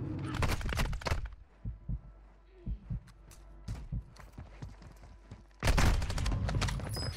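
Gunfire in the video game Warzone 2: a dense loud burst of shots opens, scattered sharp single reports follow, then another heavy volley near the end.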